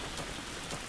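Rain falls in the video game The Last of Us, a soft, steady hiss of drops hitting surfaces, faint and even throughout the short moment, with no one talking.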